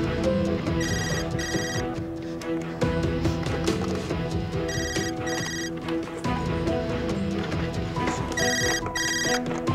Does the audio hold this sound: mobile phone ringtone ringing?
yes